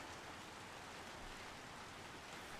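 Steady rain in a video game, a constant hiss of falling water filling the whole clip at an even, fairly soft level, with no voices or other distinct sounds.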